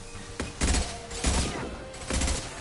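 Weapons fire in a Mass Effect 2 video game firefight, with three loud, close bursts of gunshots in quick succession and each burst ending in a brief reverberant tail.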